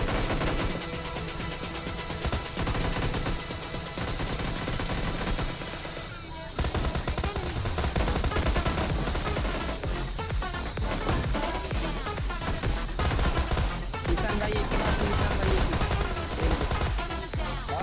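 Sustained automatic gunfire and rapid shots from a PUBG Mobile Lite match, dense and continuous across the whole stretch, with bursts overlapping one another and a brief drop in intensity partway through.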